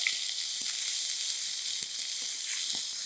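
Onions and green chillies fry in a pan with a steady, bright sizzle and a few faint pops, close up and heard alone for a few seconds.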